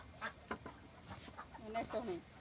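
Ducks on a Bangladeshi village farm quack softly in short bursts nearby, with a few quieter calls in between, against a low background.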